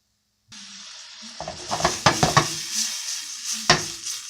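Rice with vegetables stirred and fried in a pan, with a steady sizzle throughout and several sharp scraping clatters of the utensil against the pan, loud and close with no talking.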